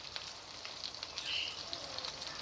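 Ginger paste hitting hot oil with chopped onions and green chilies in a pan, a soft continuous sizzle and light crackle, fairly quiet, with no talking.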